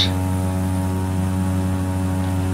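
A propeller aircraft takes off near Bulolo, Papua New Guinea, in the Prepar3D flight simulator, its engine a steady, loud droning hum with a strong tonal whine that holds evenly throughout, with no voices.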